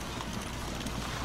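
Horse-drawn carts in the Train Fever game make a quick, steady clip-clop of hooves over a dense wash of in-game ambience.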